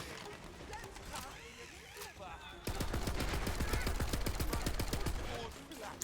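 Rapid automatic gunfire from a weapon in the video game Tiny Tina's Wonderlands, a fast, steady burst of shots lasting several seconds following quieter game effects, under a player talking.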